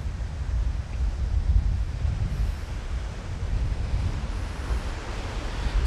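Ocean surf washes steadily onto a sunny beach at Parcelas Vieques in Loíza, Puerto Rico, near where the Herrera river meets the sea, a continuous broad roar with some wind rumble and no voices.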